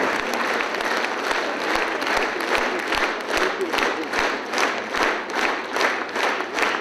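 A concert hall audience at an anniversary concert in a palace of culture gives sustained, rhythmic applause. The clapping fills the room in steady, pulsing waves and the crowd is close and loud, with some voices mixed into it.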